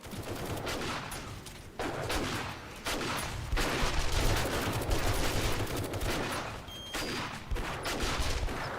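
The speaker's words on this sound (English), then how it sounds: "I keep shooting them even when they're down" Gunfire from shooting zombies in the game 7 Days to Die: rapid, loud bursts of repeated shots come in several sustained volleys with brief gaps between them, and no talk.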